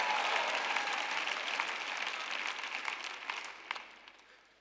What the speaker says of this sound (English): I hope you keep clapping